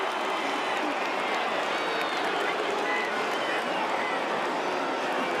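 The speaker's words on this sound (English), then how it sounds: "And the crowd replaces the silence with boos" Stadium crowd booing at Clemson in NCAA Football 2025 during a Troy game, a steady, dense wall of crowd noise sustained throughout without clear breaks, loud and broad, with commentary voices faintly mixed in.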